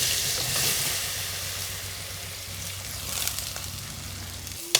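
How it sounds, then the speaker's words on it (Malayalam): Soya chunks frying in oil in a pan, a steady close crackling sizzle with a low hum underneath and a sharp clink near the end. "ഇതിലേക്ക് നമ്മൾ സോയാബീൻ ഇട്ട് കൊടുക്കാം"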